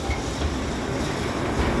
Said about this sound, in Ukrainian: ми зараз побачимо вживу туристичні потяги